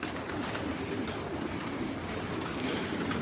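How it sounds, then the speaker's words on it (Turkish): Roughly a thousand pigeons crowd a rooftop loft, their cooing and rustling forming a dense, steady murmur that holds at an even level throughout with no talking. "Şu an damımızda bin kadar kuş var"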